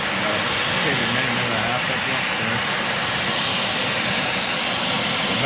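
Torch flame heating a hand-made steering arm for a Henry J gasser until it glows cherry red, a loud, steady roaring hiss held close and unbroken throughout.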